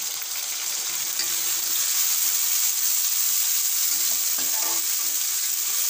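Onions with garlic, ginger and green chilli paste fry in a pan, giving a steady, close, bright sizzle with faint stirring scrapes and no talking.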